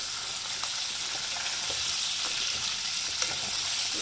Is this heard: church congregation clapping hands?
no